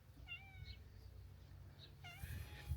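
Stray cat meowing in a garden, two short rising meows about two seconds apart, close and fairly quiet against soft outdoor background noise.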